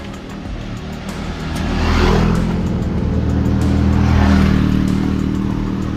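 A motorcycle passes by on a rural road, its engine rising to a loud hum around the middle and swelling again before fading slightly, with a steady low drone throughout.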